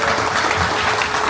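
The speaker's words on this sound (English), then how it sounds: "a big round of applause for volunteers" A crowd at a convention opening ceremony applauds the volunteers, a dense, steady wash of clapping that holds at full strength from start to finish with no voices on top.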